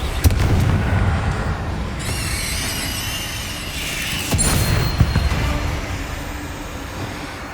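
Bombarda and Confringo spells burst in a Hogwarts Legacy fight, with heavy booming blasts, crackling debris and a bright magical shimmer, several loud impacts spaced over the stretch amid continuous rumbling combat noise.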